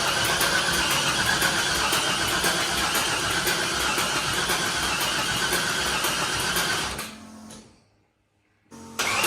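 An LS-swapped Nissan Hardbody D21 cranks steadily under dense mechanical noise for several seconds without catching. It then cuts out to near silence before a brief burst of sound returns.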